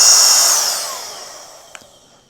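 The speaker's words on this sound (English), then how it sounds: "We turn on the vacuum." A portable all-in-one car kit vacuum cleaner powered from a power bank, a close high-pitched motor whine winding down steadily over about two seconds, ending with a faint click.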